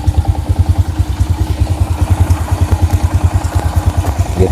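An old motorcycle engine idles up close with a steady, rapid thumping pulse and a light mechanical rattle, without knocking from the front of the engine.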